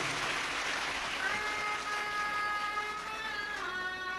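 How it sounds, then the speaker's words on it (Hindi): An audience at a Shiv Mahapuran katha in Surat, Gujarat claps loudly and continuously, a dense, steady wash of applause with no break or voices on top. "एक बार जोरदार ताली"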